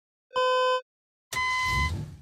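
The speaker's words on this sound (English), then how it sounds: "I chose to create the beeping with Wwise's built-in MIDI tone generator" Two electronic countdown beeps from a built-in MIDI tone generator in the tank game Tanks!: a clean pure tone, a short gap, then a second, buzzier and noisier beep.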